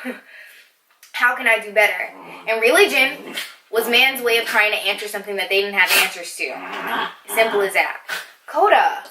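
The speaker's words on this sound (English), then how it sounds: "That's my dog, you guys." A pet dog whimpers and lets out short yips and barks at intervals, close by, mostly under someone talking steadily indoors.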